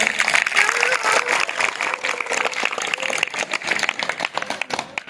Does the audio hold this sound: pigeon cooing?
no